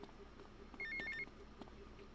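A mobile phone rings in Grand Theft Auto IV, a short burst of bright electronic trill tones in the middle of the clip, faint under low game background noise.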